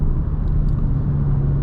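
Dodge Challenger Scat Pack T/A with the 392 engine and stock tires, a steady loud low engine rumble throughout as the car drives, with no clear rise of revving.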